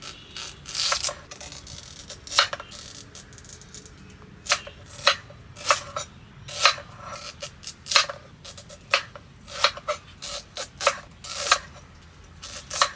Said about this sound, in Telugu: మనం సగం సగంగా ముక్కలు చేసుకోవాలి ఈ లోపు మనం ముక్కలు అయితే చేసేసుకుందాం